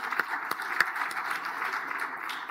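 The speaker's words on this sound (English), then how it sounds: "Please, a round of applause to the lady." Steady round of applause from a conference audience for a speaker, moderate and continuous with a few sharper claps standing out, with no talk over it.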